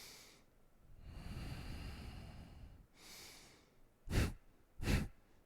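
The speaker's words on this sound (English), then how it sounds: "and then a half breath in" Yoga breathing: a long slow breath drawn in, a shorter exhale, then two sharp quick nasal bursts, close to the microphone with no talking.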